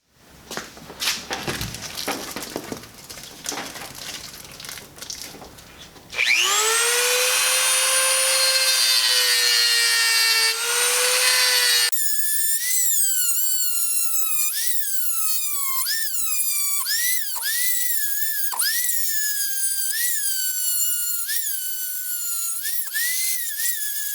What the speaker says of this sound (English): That should be quick work with a Dremel.